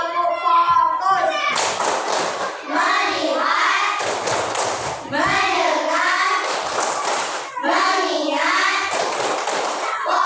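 Children chanting the Indonesian "tepuk fokus" clapping routine in a classroom, their sing-song voices carrying rhythmic bursts of claps and thumps, near and loud throughout.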